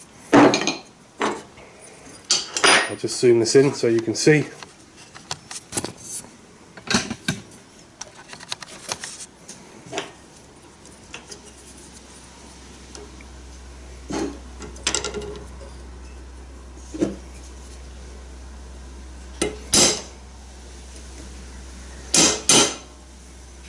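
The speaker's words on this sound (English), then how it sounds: "install with a hammer and a punch" Hammer and punch driving aviation anchor nuts into place: a run of sharp metallic taps and clinks, close and irregular, some in quick clusters, with a few words spoken at the start.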